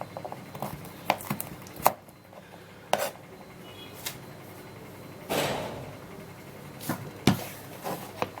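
Sharp knife chops strike a board at irregular intervals, some louder than others, with light kitchen clatter in between and no talking.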